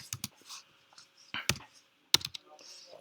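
Keys tapped on a computer keyboard, with sharp click bursts in small clusters and pauses between them, close and fairly clear, with no talking over them.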